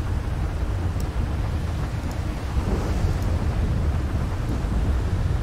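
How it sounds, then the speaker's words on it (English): Heavy rain pours in GTA 5 during wild weather, a dense, loud, unbroken roar of downpour with deep rumbling low end throughout. "it's raining as well, so pretty heavy"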